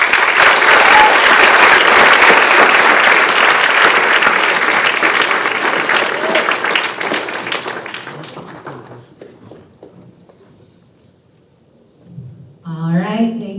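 An audience at a Writers Week 2024 event claps in loud, dense applause that holds for several seconds and then tapers off into quiet. A voice speaks briefly at the very end.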